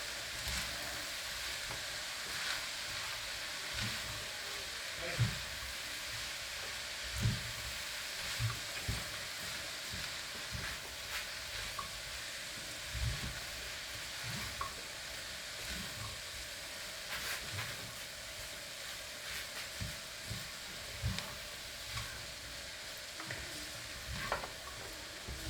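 Lamb keema samosa filling sizzling and hissing in a pan while being stirred, a continuous frying hiss with soft irregular scrapes and knocks running throughout, no speech.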